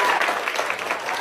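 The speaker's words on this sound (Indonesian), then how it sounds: "Kita sambut dengan tepuk tangan." Audience applause welcomes a speaker called to the front at a company talk, a dense burst of clapping from a nearby crowd with some voices mixed in.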